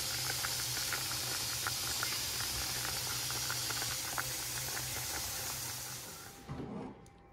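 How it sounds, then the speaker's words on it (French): Vegetables dropped into a pot of boiling water for a few minutes of blanching while making a keto apple tart: a steady, close bubbling hiss that holds for most of the clip, then thins out and fades near the end. "on va juste les jeter dans l'eau bouillante 2 ou 3 minutes"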